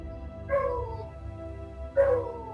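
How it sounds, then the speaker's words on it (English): A dog outside barks twice, about a second and a half apart, sounding muffled and somewhat distant over a low steady hum. "And my dog is going absolutely crazy out there."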